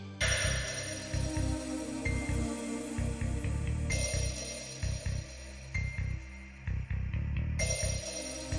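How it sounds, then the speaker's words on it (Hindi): A phone in a Hindi TV serial rings on and on unanswered, its repeated tone pulsing in steady bursts with a short gap before it starts again. "करण भी फोन नहीं उठा रहे।"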